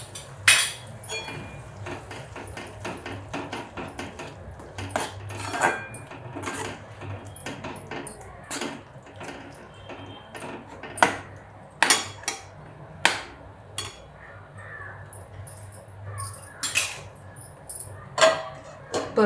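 Onion-coconut masala paste stirred in a pan for an eggplant curry, a spoon scraping and clinking against the pan in repeated sharp taps over a low steady background, close and clear, with no talk.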